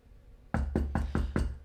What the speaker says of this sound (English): A knock rapped on his door.